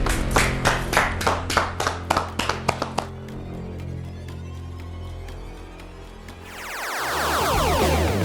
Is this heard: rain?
no